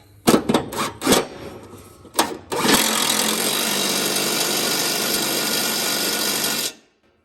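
A power tool tightening a mower deck pulley down onto its spindle shaft, starting with a few short clunks and bursts, then running in one steady, loud whirring stretch for about four seconds before cutting off abruptly.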